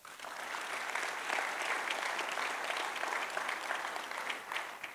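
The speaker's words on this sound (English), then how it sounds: "Let's give them a round of applause" Audience at an industry town hall applauds newly elected board members with a steady round of clapping, moderately distant and even throughout, fading slightly at the close.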